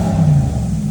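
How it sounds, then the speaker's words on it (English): A Jeep Grand Cherokee SRT8 with a 6.4L HEMI V8 and Flowmaster mufflers gives a brief, loud, deep exhaust rumble up close, swelling slightly before settling, with no voices. "More aggressive exhaust."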